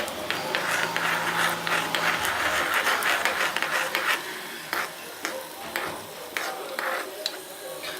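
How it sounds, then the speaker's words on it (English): Seeds sauté in ghee in a pan for rice kheer, giving a crackly sizzle broken by scraping, clicking stirring strokes close by, with no talk. "Let's saute this for 2 seconds."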